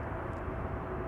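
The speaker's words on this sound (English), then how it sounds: "we hear the sound of an engine, or maybe it's an APU" An aircraft engine or APU running at Amsterdam Schiphol Airport, a steady, faint, low-pitched droning hum heard from a distance with no change over the short span.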